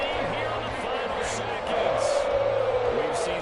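Stadium crowd in a Madden NFL video game roaring in reaction to a late game-tying field goal, a steady broad swell of cheering that rises slightly midway, with faint game commentary murmuring underneath.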